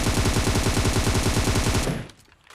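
Rapid automatic gunfire in PUBG, a loud continuous burst of shots lasting about two seconds before cutting off abruptly into quiet.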